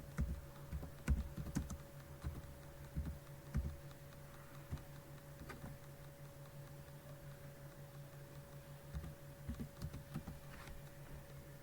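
Typing on a computer keyboard sounds as quiet, close clicks in irregular bursts, with a steady low hum beneath.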